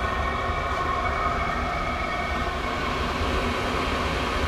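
Chinese 5 kW diesel air heater running on a bench test, giving a steady, loud broadband roar with a constant hum and no pauses.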